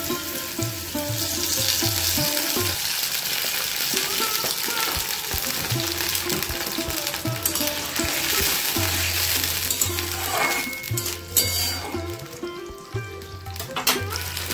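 Apple and grape chutney bubbles and sizzles in a pan after water is added, a continuous, fairly loud hiss with intermittent stirring and scraping, and a low hum running underneath.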